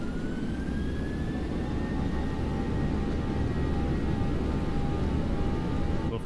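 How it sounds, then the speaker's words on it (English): Boeing 737-800 jet engines spool at takeoff thrust in the X-Plane 11 flight simulator, a steady, loud broadband roar with a thin high whine held throughout. "Love the sound of these engines, very nice."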